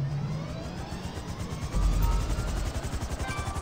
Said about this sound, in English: This is like a jet helicopter. Got little jet engines on the back of it.